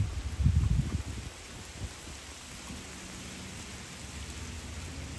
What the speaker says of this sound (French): On est sous la pluie.